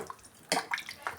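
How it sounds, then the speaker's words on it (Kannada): Water poured into mutton curry in a pressure cooker during Kannada-style mutton saaru cooking, heard as a few short splashing bursts, fairly close and otherwise quiet. "ಈಗ ನನ್ನ ಸ್ವಲ್ಪ ನೀರು ಸೇರಿಸ್ಕೊತಾ ಇದ್ದೀನಿ."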